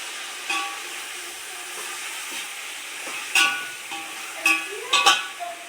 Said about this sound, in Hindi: फ्राई होने वाला है एकदम